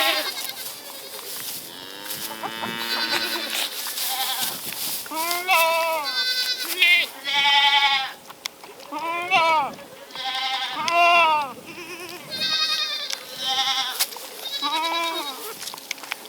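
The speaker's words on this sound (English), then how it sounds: "Kiko goats are just such good mamas." Kiko goats, a mother with young kids, bleat repeatedly in short wavering calls, some loud and close, others fainter, with pauses between them and a person talking in the background.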